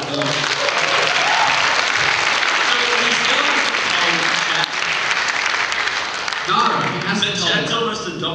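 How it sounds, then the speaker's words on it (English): A live stage audience at a comedy podcast show breaks into loud, dense applause that fills the room steadily, with some voices rising near the end. "Give a round of applause"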